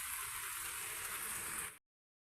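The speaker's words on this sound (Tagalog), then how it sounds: "Ulan tayo, ulan." Steady rain falling on a morning village view, a continuous broadband hiss holding evenly for under two seconds before cutting off abruptly, with no talk over it.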